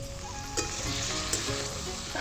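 Okra and potato curry sizzles steadily in a pan just after a splash of water is added, a close, continuous hiss with a few brief stirring clinks and no talking.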